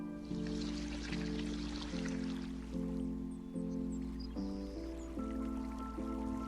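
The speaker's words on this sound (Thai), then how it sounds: "ฝนตกด้วยนะมีฝนตก" Rain falls in the cozy boat-cleanup game Spilled!, a soft, steady patter of drops heard faintly beneath a looping, gentle melodic game tune with repeated chord notes.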